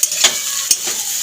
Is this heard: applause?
no